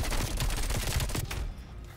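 Black Ops Cold War video game gunfire: dense, rapid automatic bursts and overlapping shots rattle loudly and continuously, then break off into a quieter tail.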